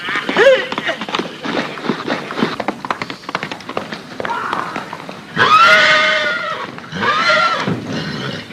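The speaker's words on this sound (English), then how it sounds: "Good horse, Rune." A horse whinnies loudly twice near the end, after a stretch of clopping hooves and scuffling movement, in a 1951 Western film.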